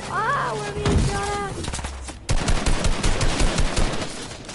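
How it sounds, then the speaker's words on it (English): Video game gunfire erupts in rapid automatic bursts, close and loud, after a stretch of excited voices shouting. "I'm being shot at from somewhere!"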